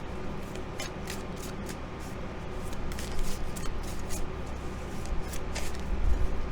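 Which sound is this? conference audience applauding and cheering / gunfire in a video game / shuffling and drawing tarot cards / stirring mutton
shuffling and drawing tarot cards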